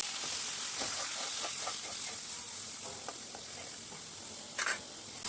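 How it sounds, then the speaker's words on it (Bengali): Turmeric and cashew paste sautéed with a little water in a pan while cooking a paneer potato and pointed gourd curry: a steady, close sizzle with soft scraping strokes of a spatula and one brighter hiss burst near the end. "দিয়ে দিচ্ছি হলুদ, দিচ্ছি একটু কাজু বাদাম বাটা, একটু জল দিয়ে মশলাটা কষিয়ে নিই।"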